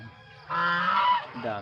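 A farm goose in a rural province yard gives one loud, brassy honk up close, followed by the start of another call.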